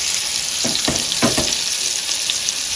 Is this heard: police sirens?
no